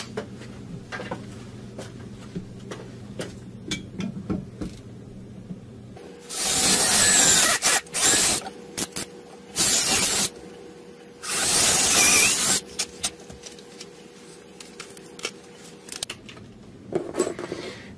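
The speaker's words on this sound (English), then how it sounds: "So let's drill our pilot holes." A power drill boring pilot holes into a wall stud to mount a wall pull-up bar, three loud bursts of drilling separated by short pauses, with quieter handling sounds around them.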